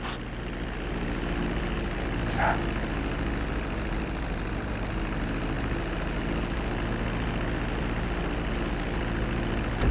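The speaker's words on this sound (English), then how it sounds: "Start reducing the plane's altitude gradually so you're just above the runway as you approach." Airplane landing on a runway in Grand Theft Auto, heard as a steady, moderately loud engine and propeller drone that holds evenly throughout with no talk.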